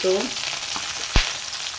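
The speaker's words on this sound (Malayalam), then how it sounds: "ചീനച്ചട്ടി ചൂടായി അതിലേക്ക് വെളിച്ചെണ്ണ ഒഴിച്ച് കൊടുത്തിട്ട് കുറച്ച് പേരിന് അതിലേക്ക് വെളുത്തുള്ളി മുഴുവനോടെ ചുവന്നുള്ളി മുഴുവനോടെ" Whole garlic cloves and shallots fry in hot coconut oil in a wok-style pan, giving a close, steady sizzle that is briefly broken by one sharp knock near the middle.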